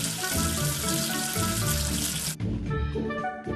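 Running water rinsing soap off a number figure in a children's counting game, a loud steady gush like a tap filling a sink that cuts off and shifts to softer splashing.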